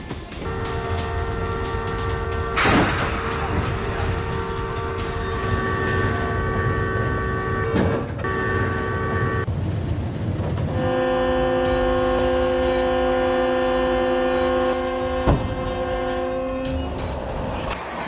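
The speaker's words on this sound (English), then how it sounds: "a donkey crossed the tracks when a Union Pacific train whizzed by" A Union Pacific train rushes past in Santa Mateo Canyon, its horn blaring in long, steady chords over a continuous rolling rumble, with a sharp bang or two partway through.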